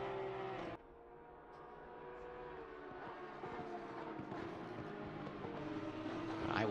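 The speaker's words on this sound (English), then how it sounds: "we will leave you to the engine sounds for a moment." Race car engines in a sim racing game at Silverstone drone continuously, pitch rising and falling as cars accelerate and shift. The sound is moderately quiet and has no commentary over it.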